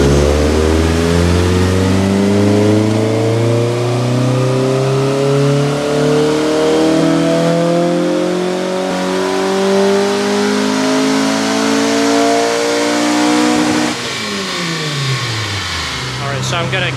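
A K24A2-swapped Honda EP3 revs hard toward redline, its loud mid-pitched engine note climbing steadily in sweeping harmonics before dropping back near the end, close and continuous.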